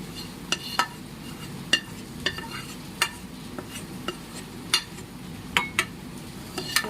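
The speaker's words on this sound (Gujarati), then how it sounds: "તો આપણે 1 બાઉલ લઈ લીધું છે, આપણે એમાં લોટ કાઢી લઈશું।" Roasted flour being scraped out of a kadai into a bowl for Gujarati bharela marcha, with repeated sharp metallic scrapes and clinks at an irregular rhythm over a faint steady hiss, close and moderately loud, no talk.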